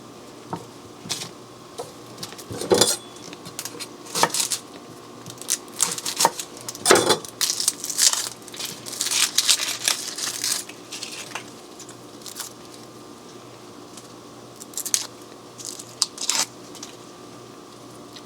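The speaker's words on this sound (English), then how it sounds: "we're going to go ahead and chop up our shallot" A shallot being chopped with a knife on a board, irregular bursts of crisp taps and slicing clicks, close and fairly loud, with pauses between runs of cuts.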